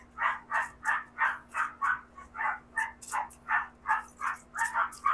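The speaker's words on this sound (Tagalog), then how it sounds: "Pasensya nyo na yung tahol ng aso" A dog barks in a steady, repeated series of about fourteen loud, closely spaced barks, heard alone in a quiet indoor room.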